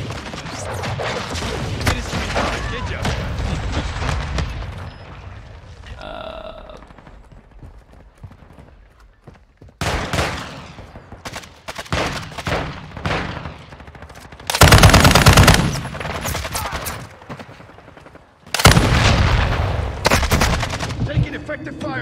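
Rapid automatic gunfire and bursts from the video game Call of Duty, loud and close, with heavy volleys and explosive blasts between quieter stretches of in-game voice callouts.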